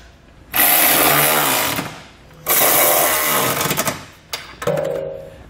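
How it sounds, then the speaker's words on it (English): A power tool, probably an impact gun with a 19mm socket, tightens the bolts of a Curt trailer hitch receiver on a 2019 Mazda CX-5, giving three loud bursts of steady mechanical whirring with short pauses between them. "you can grab a 19mm socket and tighten it all up"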